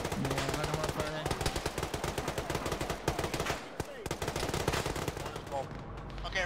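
Gunfire in the ShackTac Arma video game, with dense machine-gun bursts and overlapping rifle shots crackling almost continuously, loud and close, with brief pauses between volleys.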